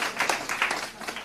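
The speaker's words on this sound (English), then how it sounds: "That deserves a round of applause." Short burst of clapping from people at a school board of education meeting, brief and fairly close, a few uneven waves of applause without talk.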